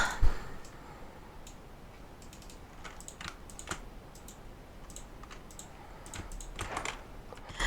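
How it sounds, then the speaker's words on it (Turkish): A worn-out computer mouse and keyboard clicking in quick irregular bursts close up, sharp light ticks over a quiet room hiss. "Mouse artık ömrünü tamamlıyor. Tıkluk yapıyor"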